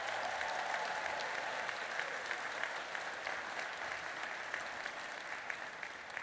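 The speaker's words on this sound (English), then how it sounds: "let's have a round of applause to the family as well" An audience at a Class of 2028 white coat ceremony applauds the students' families, a steady, even wash of clapping that is distant and fairly soft and continues throughout.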